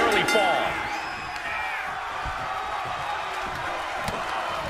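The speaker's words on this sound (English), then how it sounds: "This capacity crowd is really willing these competitors on." Crowd in a packed arena in the WWE 2K25 wrestling video game, a loud steady roar of cheering that surges at the start and holds under a commentator's voice after a pop-up powerbomb pin.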